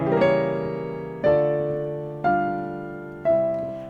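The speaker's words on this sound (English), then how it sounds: "Or if I play a different diminished chord," A diminished chord on a keyboard struck four times in a steady rhythm, each one ringing out and fading before the next, with no voices.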